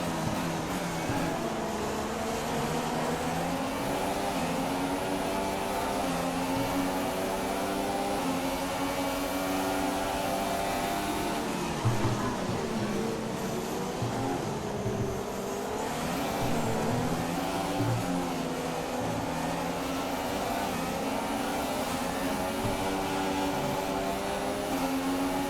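Formula 1 race cars in the F1 2016 racing game drone steadily at high pitch, engines close and continuous with shifting whine as cars jostle and overtake, the sound dense and unbroken throughout.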